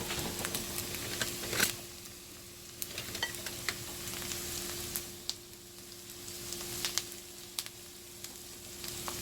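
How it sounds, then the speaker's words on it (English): One medium onion sautéing in an Instant Pot with a soft steady sizzle, scattered sharp ticks and pops, and a constant low appliance hum underneath; no speech. "So we sauteed onion. That goes in there. That was 1 medium onion. I'm going to saute it."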